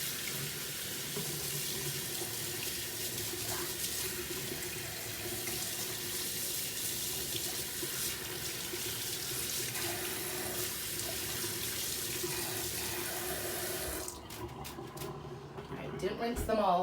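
Tap water runs steadily into a sink as acrylic pour painting items are rinsed under it, a continuous hiss and splash that cuts off near the end, with a voice talking over it.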